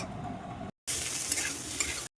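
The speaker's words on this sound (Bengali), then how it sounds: "কচুটা আমার সুন্দর করে কিন্তু ভাজা হয়ে গেছে" Taro (colocasia) pieces fry for a hilsa fish curry with a continuous sizzle, broken by a brief gap before the frying noise returns just as loud.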